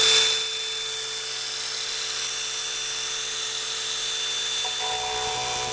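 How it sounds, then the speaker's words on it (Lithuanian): A power tool drilling and cutting an asbestos-free slate sheet gives a steady, high-pitched whine with a sharp onset, continuous and close for several seconds without talk. "Pasimeravau, žiūrėkit kaip gręžia,"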